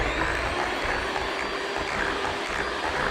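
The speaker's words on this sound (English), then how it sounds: "Now I'm just going to give that another go over with the electric whisk." An electric whisk runs in a bowl of salted caramel cake batter, giving a steady, fairly loud whirring drone with no breaks.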